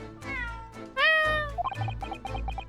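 Wagahai, a cat in The Great Ace Attorney Chronicles, gives a couple of drawn-out meows, then a rising, insistent one followed by quick chirpy mews, clear and close.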